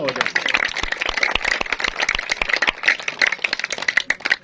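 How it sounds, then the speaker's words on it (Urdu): Crowd applause for the organiser of an Independence Day cricket tournament and his team at Mala Kalan, a dense patter of claps continuing steadily under an announcer's voice. "تو ایک دفعہ حاجی تجرب حسین صاحب کے لیے اور ان کی پوری ٹیم کے لیے تالیاں ہو جائیں"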